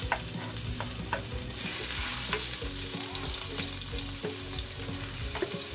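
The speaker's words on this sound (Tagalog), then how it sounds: "dito po sa ating pinagprituhan ay magigisa po tayo ng bawang" Garlic sautés in oil left over from frying, a steady close sizzle with bursts of stirring and utensil scrapes throughout, no voices.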